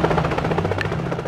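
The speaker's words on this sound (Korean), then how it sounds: "헬기에서 내리는데?" Helicopter in the City Defense zombie mobile game: a continuous, loud, pulsing rotor drone with fast rhythmic chopping under a low hum, heard alone.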